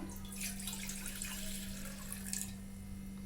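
Beet water poured into a cooking pot, a soft, steady trickling and splashing of liquid with a low background hum; faint and uninterrupted, with no talk.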